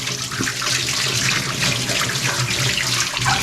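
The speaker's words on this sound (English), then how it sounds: "that hot tap is now too hot to touch. I'm going to have to use cold." Cold water tap running steadily into a sink while hands are washed, a continuous close rushing splash with slight fluctuations and no speech.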